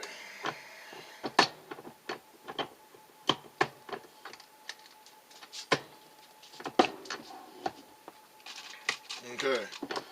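Lee turret press reloading .40 caliber cartridges, giving a string of sharp metallic clicks and clacks in an irregular rhythm as each stage cycles, close and moderately loud, with quiet talk at times.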